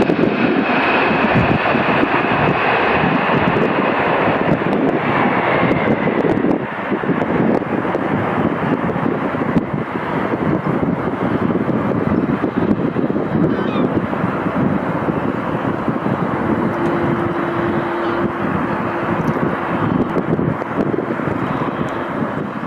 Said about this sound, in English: This Boeing 767 landing at Amsterdam Airport touched down late and didn't have enough runway left